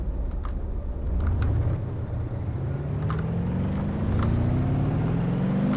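A car in BeamNG Drive accelerates steadily, its engine note rising continuously through the gears, close and loud with no voices.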